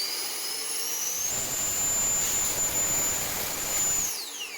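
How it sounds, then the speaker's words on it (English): A 3D-printed Harrier STOL jet model's ducted fan runs at full throttle with its nozzles angled 45 degrees down, a loud steady high-pitched whine and roar that holds for about four seconds, then spools down. "For the next test, the nozzles go 45 down and full throttle again."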